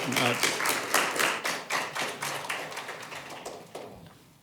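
Applause breaks out in city council chambers: a steady run of dense, fairly close clapping that thins and tapers off over several seconds, with faint talk beneath.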